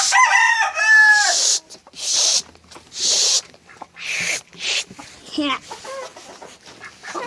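An Ispenç rooster crowing among chickens, with a loud nearby crow at the start, then clucking and short bursts from the flock, repeated calls alternating with brief pauses.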